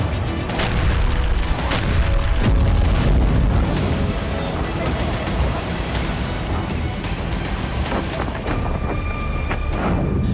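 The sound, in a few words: missile strikes and explosions in Ukraine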